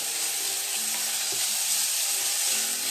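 Garlic sizzles steadily in a hot pan of oil for a Portuguese caldo verde soup, a continuous broadband fry with a faint scrape of stirring partway through and no voices.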